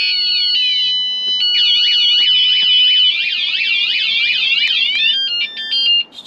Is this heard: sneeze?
no